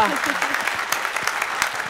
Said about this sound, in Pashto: بیا هم چکچکې